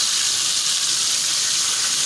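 Garlic and curry leaves sizzle in hot oil, giving a steady, loud, even hiss that continues unbroken and close throughout.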